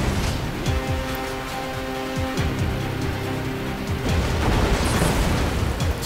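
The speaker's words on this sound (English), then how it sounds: "Some residual rocket action going on there." Rocket explosions in a shooter video game, heavy booming blasts layered over a dense, continuous rumble of combat noise.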